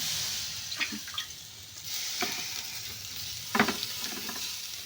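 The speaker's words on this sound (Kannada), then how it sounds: "ಈಗ ಇದಕ್ಕೆ ಸ್ವಲ್ಪ ನೀರು ಹಾಕೊಳ್ಳೋಣ" Greens fry in a pan with a steady, soft sizzle. Water is poured in, and the sizzle flares up in louder hissing bursts. Nobody speaks.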